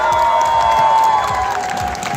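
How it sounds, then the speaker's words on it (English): Crowd at a cosplay contest cheering and applauding loudly and continuously, a dense wash of claps with a sustained tone ringing through it. "give another round of applause for all of our winners who are on the stage to begin with, all of our cosplayers"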